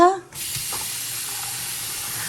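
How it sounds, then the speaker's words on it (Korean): A kitchen water tap in a countryside house is turned on and runs in a steady hiss that goes on to the end. A short voice comes just before the flow starts. "상수도 사용하시니까 물 한번 틀어보겠습니다"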